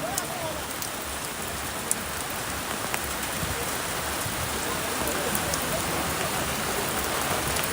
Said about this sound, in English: It's cloudy here and the rain is dropping